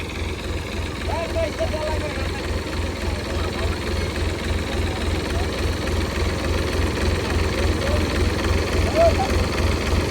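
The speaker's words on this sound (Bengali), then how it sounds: "তো এখন এই ট্রাক্টর দিয়ে এটা টান দিই, দেখি ওঠে কিনা।" An old tractor's engine runs in a steady, throbbing low pulse while it pulls a truck stuck in the mud. The pulse is loud and continuous throughout, with faint voices now and then.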